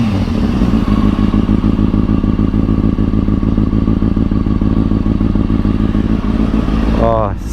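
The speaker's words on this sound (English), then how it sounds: "So this is probably going to be the most exciting part of the video, actually starting the bike." A Yamaha MT10 motorcycle is started and settles into a loud, close, raw idle with a rapid, steady pulsing beat that runs throughout, ending with a brief scrape or clunk.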